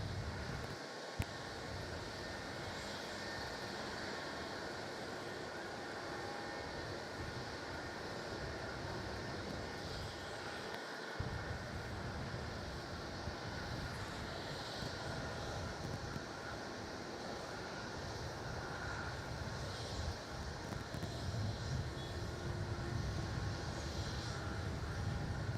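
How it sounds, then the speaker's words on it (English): Dash 8 Q400 turboprop spinning up its propellers for takeoff at Melbourne Airport, a steady, moderately loud broad engine drone with a faint sustained hum and two brief low thumps. "Dash 8 Q400. As we watch the prop spin up."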